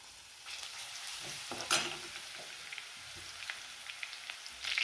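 Quiet crackling and popping of cumin and ground garlic sizzling in hot oil, with scattered sharp spits and a soft stir partway through.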